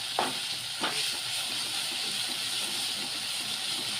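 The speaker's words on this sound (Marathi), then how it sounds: "आता अद्रक लसूणचा पेस्ट टाकत आहे मी" Ginger garlic paste fries in a hot pan for an egg curry, giving a steady close sizzle and hiss, with a couple of sharp spatters near the start and no talking.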